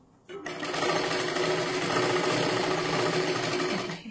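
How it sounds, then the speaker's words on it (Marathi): Sewing machine running steadily while stitching a 36-size four-tuck blouse, a continuous close, loud whir from start to end after a brief quiet opening. "आता इथे एक शिलाई मारून घ्यायची आहे"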